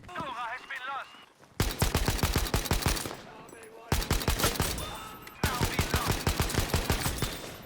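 Automatic weapons fire in the shooter game Battlefield V, long rapid bursts of loud close gunshots separated by brief pauses, with a voice heard briefly at the start.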